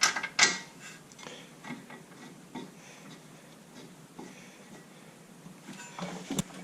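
Ratchet turning to start a brake caliper bolt on a Camaro during a brake upgrade, a few close, quiet clicking and mechanical ticks at the start, then faint scattered clicks over low background noise, no talking.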